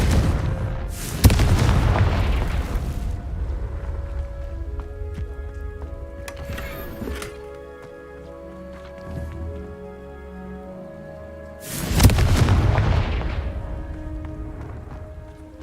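Two big blasting-spell explosions from the Hogwarts Legacy video game erupt as loud booming bursts several seconds apart, each with a rumbling tail, separated by quieter crackling debris and ambient game sounds.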